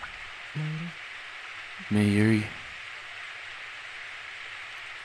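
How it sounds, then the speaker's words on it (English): Rain in the Steins;Gate video game makes a steady, even hiss throughout, with a voice briefly calling out over it. "Oh, it's just raining."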